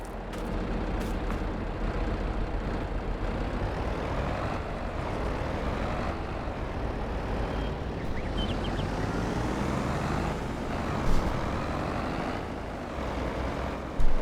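A small tractor drives in the video game Farming Simulator on the Greenlands map, its engine producing a steady, loud, rumbling drone that holds constant throughout with a sharp knock near the end.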